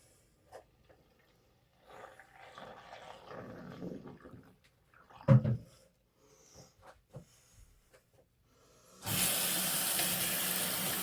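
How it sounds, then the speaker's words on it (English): Water draining from a small doll spa tub for Barbie dolls, a steady loud broadband rush that starts abruptly and runs continuously to the end after quieter handling noises and faint sounds. "we drain the spa water"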